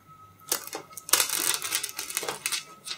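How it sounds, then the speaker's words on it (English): Metallic foil being peeled off pressure-sensitive glue on fabric, a quiet close-up crackling and rustling in short bursts over about three seconds. "when I peel the foil off"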